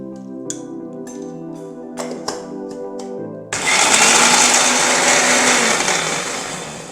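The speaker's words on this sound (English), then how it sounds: "We have to grind the soaked tuar dal, pepper, jeera and curry leaves into a coarse paste." An electric kitchen grinder runs steadily, churning soaked toor dal, pepper, jeera and curry leaves into a coarse paste. The loud whirring motor starts abruptly after a few seconds of plucked music and keeps going to the end.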